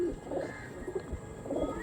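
Andhra Kalshira pigeons kept at a bird market give soft, low cooing calls in a few short bursts, close by and over steady background noise.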